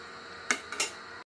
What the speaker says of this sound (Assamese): ঢাকন মাৰি দিম মই এতিয়া।